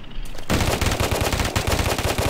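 Rapid video-game gunfire rattles in dense automatic bursts after a brief quieter opening, loud and close, with explosions and bombs falling in the mix of a multiplayer firefight.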